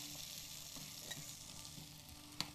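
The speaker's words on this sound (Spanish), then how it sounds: "La rehogamos un poco." Diced onion sautéing with garlic in a pan at a cooking demonstration, a soft steady sizzle with a few light utensil clicks and one sharp tap near the end, no voices.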